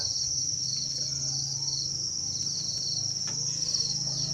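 Crickets on a cricket farm chirp in a steady, dense chorus, a continuous high trill that stays loud and unbroken throughout, with no talking.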